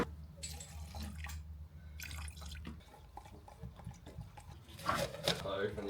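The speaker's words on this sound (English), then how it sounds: "and then give it a good stir" Paint mixed with thinners stirred in a container in a backyard garage, giving soft wet sloshing and scraping under quiet talk, ending with a louder splashy clatter.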